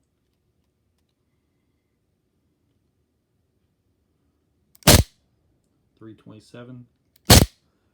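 Two sharp gas blowback shots from a Sig P226 airsoft pistol with Laylax upgrade parts, fired through a chronograph, loud cracks a few seconds apart with a brief spoken reading between them.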